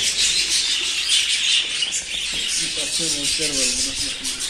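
Busy chirping and twittering from many budgerigars at a breeding aviary, close by and continuous, with a voice speaking briefly underneath.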